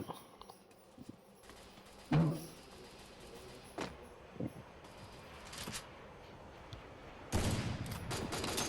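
Scattered gunfire in the mobile battle-royale game Garena Free Fire: a few sharp isolated shots, with a louder burst of fire near the end, over a low background of in-game ambience.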